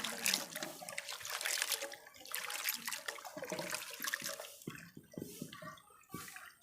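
Ghatkol leaves are swished and rinsed by hand in water, with steady splashing and trickling that comes in bursts and lulls, close and moderately loud, with no talking.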